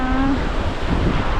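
Steady, loud wind rushing across the microphone at Long Hai Beach in Vietnam, with surf churning underneath; no voices.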